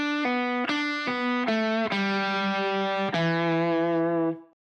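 Guitar plays the second bar of an easy blues lick, a series of distinct picked notes with a distorted, effects-laden tone, close and alone, ending on a sustained note.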